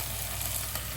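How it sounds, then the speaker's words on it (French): Pieces of cod back fillet hitting a hot pan already holding mushrooms and carrots, producing a steady, close, moderately loud sizzle for a brief moment with no voices. "Je vais ajouter le dos de cabillaud que j'ai coupé en petits comme ça."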